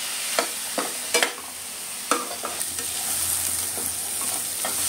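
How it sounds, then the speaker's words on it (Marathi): Sliced onion fries in a pan toward golden brown for a Maharashtrian dry fish dish, with a constant close sizzle broken by several sharp spatula scrapes and taps, no one speaking. "हे बघा, कांदा आता गोल्डन ब्राऊन व्हायला लागलाय"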